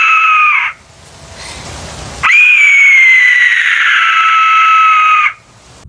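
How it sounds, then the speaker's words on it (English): An Aztec death whistle gives piercing, high, eagle-like screams: a short shrill cry, a burst of breathy noise, then a long sustained wailing tone that slowly falls, heard loud and close with no talking. "Aztec whistles are also known as death whistles."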